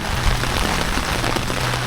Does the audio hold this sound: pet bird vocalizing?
no